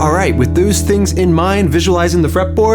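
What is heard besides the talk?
No distinct noise like a dog, phone or traffic.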